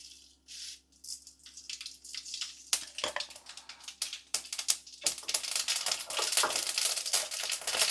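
Mustard seeds pop and crackle in hot coconut oil, starting sparse and building into a dense, rapid sizzling crackle up close.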